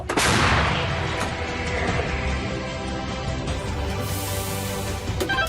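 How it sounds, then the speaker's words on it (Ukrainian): An artillery gun fires in combat with a heavy blast that booms at the start and rolls away into a long rumbling echo, with a second sharper report near the end. "Вогонь! Гармата! Постріл!"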